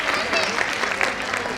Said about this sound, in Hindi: तो जोरदार तालियों से थोड़ा सा स्वागत करें हमारे इस छोटे से इवेंट का।